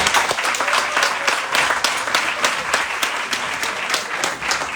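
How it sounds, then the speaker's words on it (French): An event audience applauds steadily, a dense wash of many hands clapping at an even, sustained level throughout with no voices standing out. "Ça s'applaudit s'il vous plaît."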